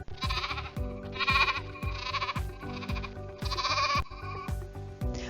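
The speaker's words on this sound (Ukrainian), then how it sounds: "Ягнята спілкуються між собою та своєю мамою за допомогою звуку" Lambs bleat repeatedly in a series of five or so calls, close and fairly loud, with soft background music.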